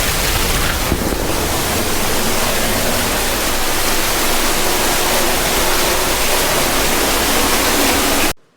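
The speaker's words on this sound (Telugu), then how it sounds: "అండ్ నీళ్ళైతే పడుతున్నాయి చూడండి" Waterfall pouring at the entrance of a cave temple, a constant loud broadband rush of falling water, close and unbroken, cutting off abruptly at the end.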